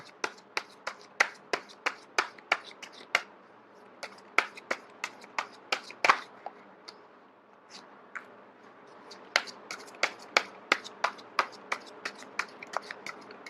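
Tarot cards are shuffled by hand, giving a long run of crisp, snappy flicks and slaps at an irregular, quick pace. A short pause comes midway before the shuffling resumes, close and fairly clear with no talking.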